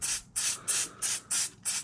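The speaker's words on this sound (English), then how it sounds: "What's going to happen, Michael, if I spray this can here with some grease, Michael?" Short bursts of aerosol grease sprayed from a can, six evenly spaced hissing puffs, close and loud with brief gaps between them and no talk.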